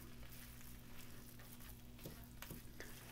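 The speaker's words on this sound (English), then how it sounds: "So I'm gonna turn the heat back up so we can slowly brown this hamburger instead of burn it." Hamburger meat browning in a skillet that had cooked onions for chili spaghetti, a steady, faint, close sizzle with a few light scrapes of a stirring utensil and no voices.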